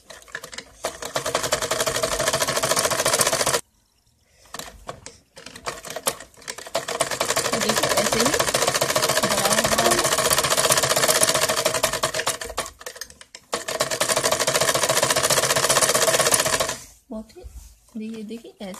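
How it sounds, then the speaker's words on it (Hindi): A sewing machine runs a straight stitch along a salwar hem in long steady bursts, with brief pauses between runs, close and loud, mechanical rattling throughout. "मैं इस पे एक सीधी सिलाई लगाऊंगी।"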